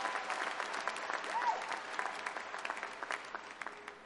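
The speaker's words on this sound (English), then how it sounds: "Let's give them a big round of applause." Commencement audience applauding at a university graduation ceremony, a dense steady wash of many hands clapping at moderate distance, rising slightly midway and thinning toward the end.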